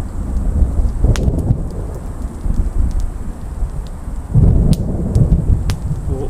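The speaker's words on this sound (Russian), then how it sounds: "Гремит гром, друзья, гремит гром." Thunder rumbles from a darkening sky over an outdoor campsite with a small campfire. Two loud, deep rolls swell and fade against a steady background of wind and rain.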